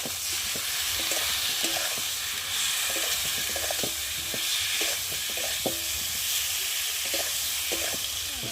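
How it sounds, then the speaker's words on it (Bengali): Ginger, garlic, cumin and onion pastes sautéed with chopped tomato and chilli powder in a pan: a constant sizzling hiss with regular scraping stirs, moderately close, no talking. "আদা বাটা, রসুন বাটা, জিরে বাটা, পেঁয়াজ বাটা আর কেটে রাখা টমেটো দিয়ে ভালো করে কষিয়ে নেব।"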